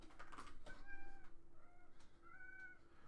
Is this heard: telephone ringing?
no